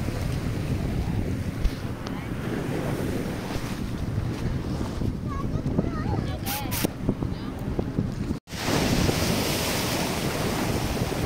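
Sea waves wash against the shore on the coast between Karachi and Gwadar, a constant loud surf mixed with heavy wind buffeting the microphone, while a person speaks faintly beneath it.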